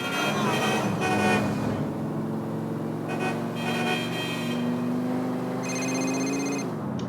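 In Grand Theft Auto IV, a phone rings with bursts of electronic tones over the continuous hum of a car engine, the ringing loud and close.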